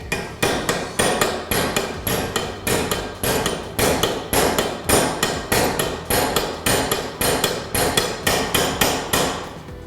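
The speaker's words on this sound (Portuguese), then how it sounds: "vou usar um tubo, vou colocar apoiado aqui na morsa e vou bater no interno aqui, ó, do meu eixo" Steady hammer blows drive a tube against the inner race of a bearing on a 3/8-inch reversible drill shaft held in a vise, about two sharp metallic strikes per second, loud and close, with no talk.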